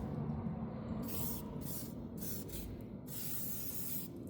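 Cleaner sprayed onto the chrome of a Harley Sportster motorcycle, a quick series of close, airy hissing spray bursts of uneven length over a steady background rush.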